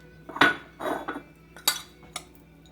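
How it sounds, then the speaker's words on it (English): A spoon scooping crispy cauliflower into tacos, a few close clinks and scrapes of metal against a dish with brief crunchy rustles between them. "So we will spoon our cauliflower down."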